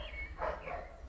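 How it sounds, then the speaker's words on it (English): A neighborhood dog gives a single short bark at mid-distance, preceded by a faint higher yelp over low background hum. "Excuse the dogs barking,"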